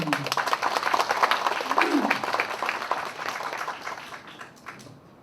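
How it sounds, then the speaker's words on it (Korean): An audience claps at a memorial ceremony, a dense burst of applause that gradually thins and fades away, with a voice speaking over the clapping. "여러분 박수 좀 보내시기 바랍니다"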